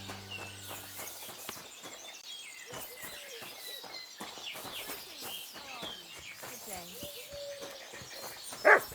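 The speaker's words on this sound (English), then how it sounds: "What are you barking at, eh?" A dog barks a few times in the game Kingdom Come: Deliverance 2, amid outdoor birdsong and game ambience, with a voice speaking over parts of it.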